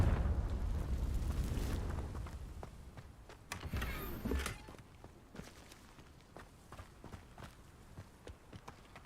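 A Confringo spell in the Hogwarts Legacy video game goes off with a burst of crackling blasts and rumble midway, then scattered impacts and debris fading away.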